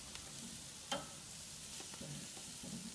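Alpaca steak searing on a grill, a low steady sizzle with soft crackles and a brief scrape or tap near the start, close and fairly quiet.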